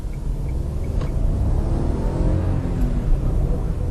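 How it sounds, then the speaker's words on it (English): A Kia Picanto's small three-cylinder engine drones with a low, rough rumble from inside the moving car, steady and fairly loud throughout. "it's a 3-cylinder, well, 3-pot if you want to call it that, which means it sounds deadly"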